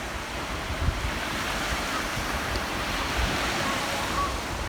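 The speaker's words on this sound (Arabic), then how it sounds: "بصوا الموجه خفيفه يعني يا دوب بتحرك نفسها" Gentle, barely moving sea waves produce a soft, continuous wash with a wind-like rush, steady and even throughout with no distinct breaking crashes.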